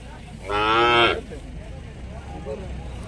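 A single loud calf moo, about half a second long and nearby, followed by quiet background with faint shuffling.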